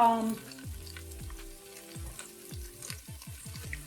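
Andouille sausage frying in a pot for a Cajun tortellini soup, a steady sizzle with a few stirring scrapes. A short burst of other sound opens the clip, and no one speaks.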